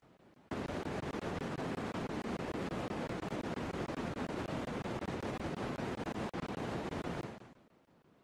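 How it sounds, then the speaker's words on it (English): A sleep-aid white noise recording plays as a steady, dense, surf-like hiss for about seven seconds, then fades out near the end. It is loud and even, with no voices. "it's called white noise black screen, meant to help people sleep"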